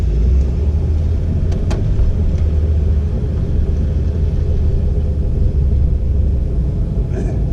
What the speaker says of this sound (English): the truck's fucking loud